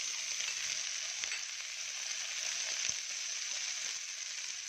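Chopped ivy gourd and onion fry in a pan with a steady, close hiss-and-sizzle that holds evenly throughout, with a few faint clinks and no talking.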